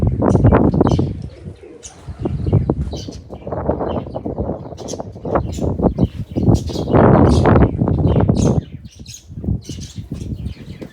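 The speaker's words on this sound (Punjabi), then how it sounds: "ਪਹਿਲੇ ਨੰਬਰ ਤੇ ਬਾਈ ਕਬੂਤਰ ਆ ਜਾਊਗਾ" A flock of pigeons coos and squawks in a loft, a dense, close chorus of overlapping calls rising and falling in waves, with brief quieter gaps.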